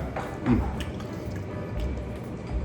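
Thick vinegar sauce (cuka) is poured over soft egg-white pempek, giving brief wet splashing and dripping sounds over a low background of room noise.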